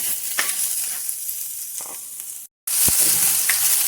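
Protein salad ingredients heat briefly in a pan on a gas stove, frying with a soft, continuous sizzle and occasional crackles and stirring noises, broken by a short moment of silence.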